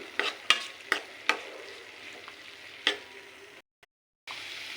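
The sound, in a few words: onions frying with turmeric, green chillies and garlic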